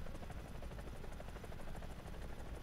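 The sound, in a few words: Lynx helicopter flying in video game War Thunder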